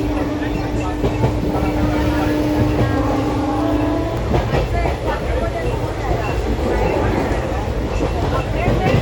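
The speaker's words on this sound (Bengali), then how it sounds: "এই হচ্ছে আমাদের ট্রেনের বগি" A moving passenger train coach at speed gives a loud, continuous rumbling roar with rattling and clatter. A steady tonal whine runs through the first half, and a voice is faintly present beneath the noise.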